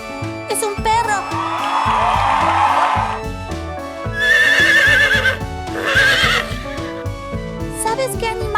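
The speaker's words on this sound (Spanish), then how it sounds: "¡Es un caballo!" A horse gives loud, drawn-out whinnies with a faint clip-clop of hooves, set against bright backing music in a children's animal-sound quiz.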